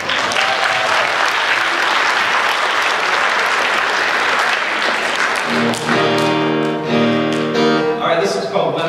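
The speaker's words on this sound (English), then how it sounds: "So give yourselves a round of applause." At a 2015 benefit concert the audience bursts into loud, sustained applause with scattered cheers, dense and close, before guitar and instrument tones come in over the last few seconds.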